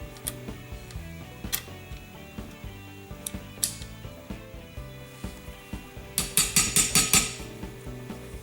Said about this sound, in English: as I pushed in the sear pin.